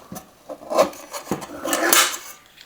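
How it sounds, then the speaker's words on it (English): A trim ring being pulled off a recessed ceiling light, giving a few short scraping rubs and light clicks in quick succession, close and fairly quiet, with no talking. "let's pull this trim ring off."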